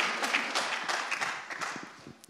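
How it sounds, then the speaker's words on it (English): An audience at a panel discussion on children's mental health breaks into applause, a dense patter of clapping that fades gradually over a couple of seconds. "You keep getting the claps, Sonya."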